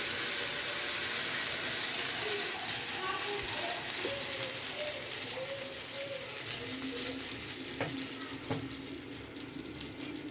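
Rice batter fries in ghee and butter in a pan, giving a steady, loud hiss and crackle that runs the whole time with scattered small pops, no voices.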